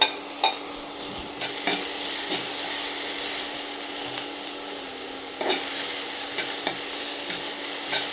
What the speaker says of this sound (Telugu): టొమాటో కూడా వేసేసి మంచిగా ఫ్రై చేద్దాం.